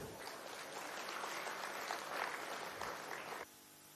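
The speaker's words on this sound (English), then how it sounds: "A huge round of applause" Steady audience applause fills the hall at an international summit in Lucknow, a dense, even wash of clapping that holds for a few seconds and then stops abruptly.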